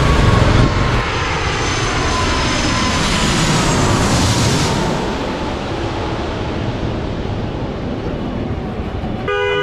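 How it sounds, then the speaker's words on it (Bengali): Sri Lankan Airlines passenger jet approaching to land over a Dhaka neighbourhood, passing low overhead with a loud, steady engine roar that eases slightly toward the end. "শ্রীলঙ্কান এয়ারলাইন্সের বিমান তিন ঘন্টা পঁয়তাল্লিশ মিনিট পর তুলে ঢাকায় এখন অবতরণের জন্য এগিয়ে আসছে"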